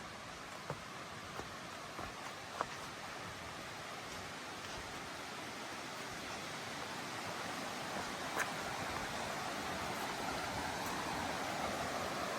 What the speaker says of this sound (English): The creek is right over here.